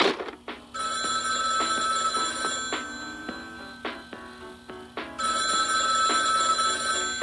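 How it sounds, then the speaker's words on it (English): An old-style telephone bell ringing loudly in two long bursts with a pause between, set over clattering background noise, with no speech. "Pick up the goddamn phone!"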